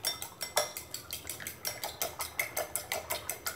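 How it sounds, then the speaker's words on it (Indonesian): Eggs whisked in a bowl, a quick regular series of metallic clinks from a utensil striking the bowl, about four strokes a second, close and quiet with no voices. "Telurnya aku kocok."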